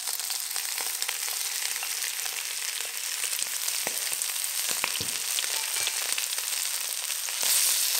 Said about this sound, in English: Add in the prawns and spread them out evenly at the bottom of the pan.